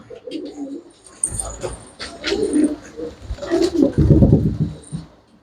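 Pigeons coo in low, repeated bursts, loudest near the end, with someone talking intermittently over them at a pigeon seller's.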